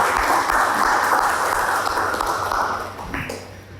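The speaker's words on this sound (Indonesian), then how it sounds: "Beri aplaus buat kita semuanya" Students in a classroom clap together in a dense burst of applause that holds steady for about three seconds, then fades out.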